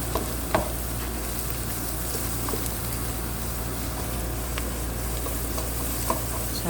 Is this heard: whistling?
no